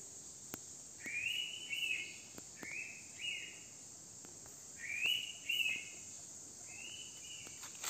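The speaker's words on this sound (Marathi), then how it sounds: "घनदाट जंगलात पक्ष्यांचा किलबिलाट." Birds in a dense forest chirp in short, repeated high calls, several bursts spread across the stretch, fairly faint over a steady insect drone.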